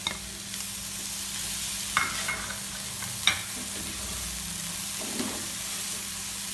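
Spoon stirring chicken samosa filling with chopped green chillies and coriander in a pan, a steady close scraping and mixing with a faint sizzle underneath and a few sharper knocks, with no voices.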